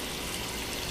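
Water runs from a tap into a vintage bowl for hand washing, a soft, steady stream close by with no voices.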